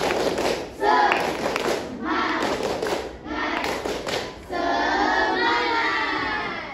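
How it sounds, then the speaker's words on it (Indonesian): Students in a classroom perform a rhythmic spirit clap, a loud close patterned run of clapping and thumps with children's voices mixed in, ending in sustained clapping. "Tepuk semangat dulu, tepuk semangat."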